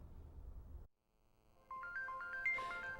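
A telephone rings after a brief stretch of low room noise and a short near-silence, sounding as a repeated electronic trill of tones that rises louder toward the end.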